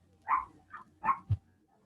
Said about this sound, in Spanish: no te escucho yo porque la perrita está ladrando